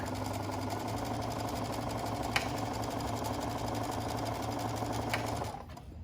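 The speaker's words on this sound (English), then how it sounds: "you're holding some tension on this piece of fabric, but you're letting the machine pull it through" Sewing machine stitching fabric for a mask strap, a steady continuous mechanical whir with rapid needle rhythm running for several seconds, close and fairly loud, then stopping abruptly near the end.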